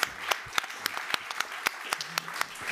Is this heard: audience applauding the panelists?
yes